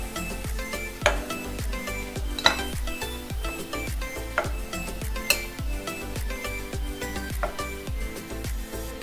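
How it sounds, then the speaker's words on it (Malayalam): Bread cheese balls fry in hot oil with a steady low sizzle, broken by frequent sharp clinks and scrapes of a utensil against the pan. "അപ്പം ഞാൻ ഇനി ബാക്കിയുള്ളതും കൂടി ഒന്ന് വറുത്തെടുക്കട്ടെ"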